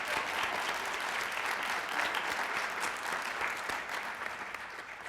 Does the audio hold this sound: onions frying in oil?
no